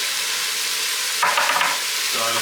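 Seared beef sizzles steadily in an Instant Pot, then flares into a louder, crackling burst as peppers, onions and garlic are dropped in, with a brief thump and rattle near the end.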